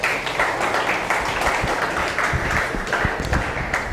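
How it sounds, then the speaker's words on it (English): Audience clapping at a Jesus Youth retreat in Mumbai, a dense, even patter of many hands that holds steady throughout at moderate loudness. "give a clap for her."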